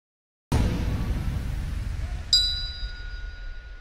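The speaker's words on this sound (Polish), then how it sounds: "Usłyszeliśmy sygnał oznaczający ostatnie 10 sekund." A bell signal at an MMA fight night rings once partway through, a clear ding with a lingering metallic ring over a low, steady arena hum.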